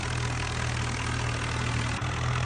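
Sawraj 963 tractor engine in a farming video game, labouring in low gear while pulling a loaded trolley, a steady low droning idle-like rumble with a brief dip near the end.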